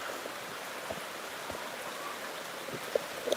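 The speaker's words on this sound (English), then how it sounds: "It's still raining a little bit." Soft, steady hiss of light rain falling, with occasional faint drips and small taps standing out against the continuous wash.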